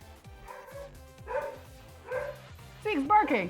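A dog barks in several short, gruff bursts, rising into higher yelps toward the end, close by and fairly loud.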